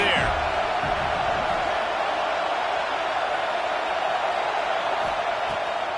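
A large football stadium crowd roars in a steady, dense wall of cheering and shouting, loud and continuous without a break.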